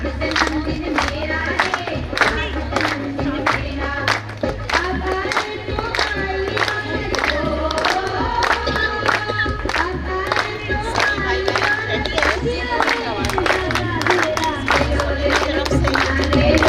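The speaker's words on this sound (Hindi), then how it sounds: "जोरदार तालियां हो जाए एक बार" Rhythmic group clapping from an audience at a Mahashivratri festival class after a children's dance performance, steady and sustained, with a low repeating musical beat beneath.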